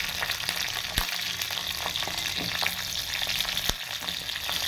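Garlic and green chilies fry in hot oil, giving a steady close sizzle with a few sharp clicks and pops from stirring. No voices are heard.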